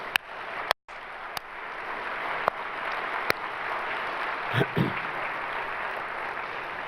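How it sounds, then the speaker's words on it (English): An audience at a zero waste conference event in Toronto gives sustained, even applause, a dense wash of many hands clapping at moderate distance, with a few sharp clicks and a brief dropout. "Let's give them a round of applause."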